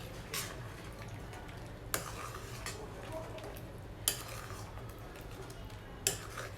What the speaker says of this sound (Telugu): ఇలా బాగా మిక్స్ చేసుకోవాలంతా.